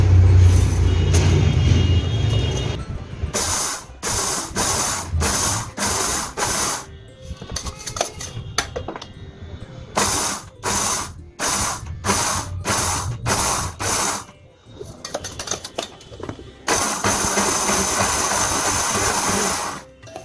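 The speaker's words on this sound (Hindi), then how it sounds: "मैं इसे मिक्सी में ही पल्स देकर दरड़ लूँगी" A mixer grinder pulses moong dal to loosen the husks, whirring and rattling in repeated short bursts with brief gaps, then a longer continuous grind at the end.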